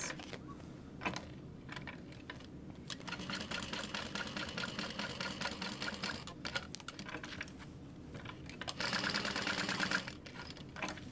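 A sewing machine stitches around a wallet piece with its ID window and taped card slots, running in fast, steady mechanical bursts with short pauses between runs, close and fairly quiet.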